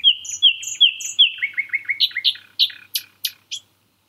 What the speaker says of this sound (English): They're known for their fluty, complex song, which has inspired poets,